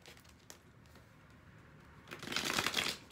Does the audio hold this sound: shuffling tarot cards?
yes